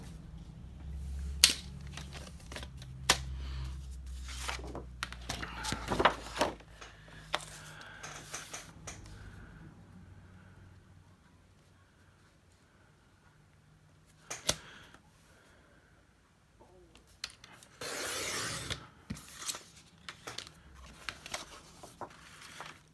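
Journal cover material being cut by hand, a series of sharp snips and crisp clicks spread across a quiet room, with pauses and a busier burst of cutting near the end.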